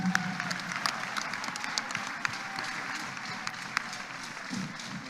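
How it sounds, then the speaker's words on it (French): A church congregation applauding together, a steady wash of clapping from many hands with a faint voice underneath. "Acclame Jésus de Nazareth"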